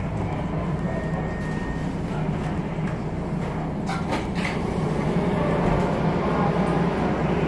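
A MARTA Red Line metro train running between the Airport and North Springs, heard from inside as a steady, loud low rumble with faint rattles and no clear speech.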